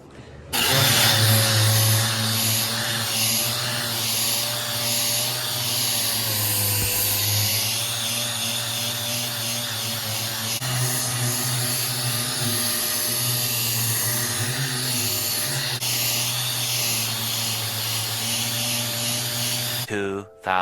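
Power tool grinding rust off the body of a GMC CCKW military truck under restoration, a loud continuous whirring drone with a steady pitch that holds close for about twenty seconds.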